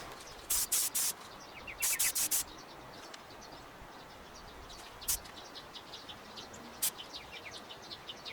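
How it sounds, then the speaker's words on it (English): A paint spray gun fires short hissing bursts onto scrap wood outdoors: two longer back-to-back sprays, then single brief puffs, loud and close, with birds and insects chirping softly between them. "we're going to take our gun, we're going to spray on our scrap wood over here"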